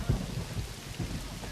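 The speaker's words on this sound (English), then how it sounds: "The storm was coming right at them." Faint thunderstorm with steady rain and a few low, soft thunder rumbles, distant and continuous.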